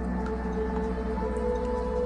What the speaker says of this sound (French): C'est une table chantante traditionnelle, vous devez connaître.